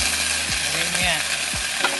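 Sardines sautéing in a pan for a Filipino noodle dish with malunggay, giving a steady frying sizzle and light stirring scrapes throughout, close and alone without talk.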